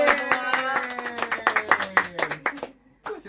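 An event audience claps in a rhythmic, fairly close series of claps that tails off near the end, with voices and tonal sound running underneath.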